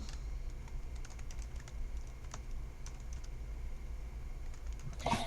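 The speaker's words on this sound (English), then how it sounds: "when you go to Google, I might type in something like" Quick irregular typing on a computer keyboard as a search is entered, soft close clicks against a low steady room hum, with a brief louder burst at the end.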